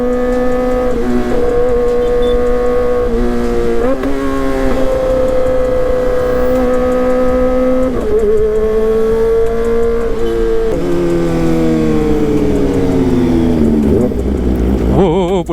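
Kawasaki ZX-25RR motorcycle engine revving steadily during a ride, a loud close whine with several rising and falling pitch sweeps as gears shift, continuous over the whole stretch with no talk.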